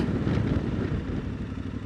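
A motorcycle engine downshifts out of third gear while braking, a steady rumbling drone heard close and fairly loud with slight fluctuation, with no voices.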